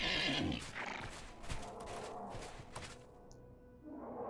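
A horse whinnies loudly at the start in the video game Oblivion, followed by scattered thuds, footsteps and rustling game sounds, then a softer rising neigh near the end.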